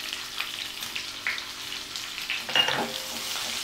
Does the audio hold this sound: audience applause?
no